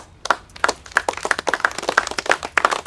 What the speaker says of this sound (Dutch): Maar big applaus.